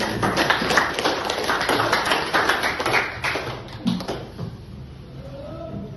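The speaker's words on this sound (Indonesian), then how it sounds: "Tepuk tangan sebelum mereka tampil." An audience at a school academic supervision event claps loudly and irregularly for a few seconds, then the clapping tapers off into softer scattered claps and quiet room sound, with a voice faintly present.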